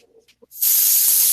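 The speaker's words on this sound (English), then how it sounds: "So we're going to spray an ink." An airbrush sprays ink onto a painted miniature: a few soft knocks and clicks, then a loud, steady, close hiss of spray that keeps going to the end.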